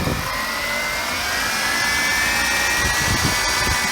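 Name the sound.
car engine revving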